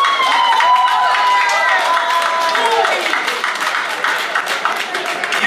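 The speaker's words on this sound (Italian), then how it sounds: "Applauso a me." Applause and light cheering from a live concert crowd, dense and fairly close, rising right after a singer's performance and continuing with a few whistles and voices mixed in.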